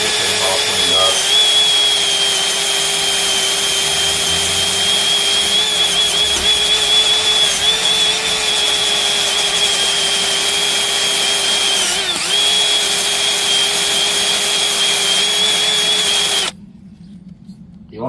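A power tool grinds rust off rear brake parts with a continuous high-pitched whir that holds steady for most of the time, then cuts off abruptly near the end.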